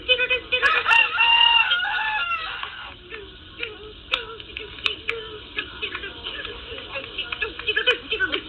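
A rooster crows loudly near the start, its harmonic call rising and then trailing off, followed by scattered clucks and other fowl noises.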